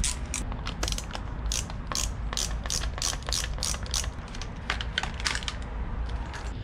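A ratchet clicks repeatedly while bolts are loosened on a Yamaha WR450F dirt bike's KYB forks, giving steady, close mechanical ratcheting in quick bursts without any talking.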